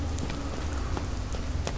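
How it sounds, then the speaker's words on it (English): Rain falls steadily in the horror video game Fears to Fathom: Ironbark Lookout, a dense even hiss with scattered drop taps, fairly loud and with no talking. "I got drenched in the rain."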